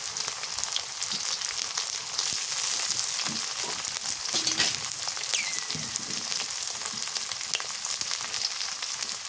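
Green chilies fry in hot oil for a kakila fish curry, giving a steady dense sizzle with occasional crackles and stirring scrapes, close and continuous with no talking.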